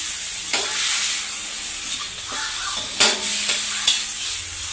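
Chicken for tinolang manok sizzling loudly in a pot, a steady close hiss punctuated by several scraping stirs and bursts of spitting.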